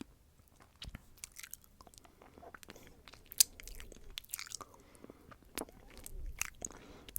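Close, intimate biting and chewing on a maple lollipop, with wet crunches, clicks and mouth sounds scattered across the stretch, a sharp crack near the middle, and no talking.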